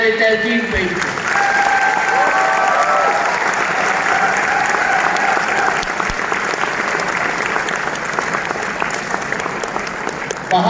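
An audience at a humorous Urdu poetry gathering breaks into loud, sustained applause, a dense wash of clapping lasting about ten seconds, with voices faintly mixed into the crowd noise.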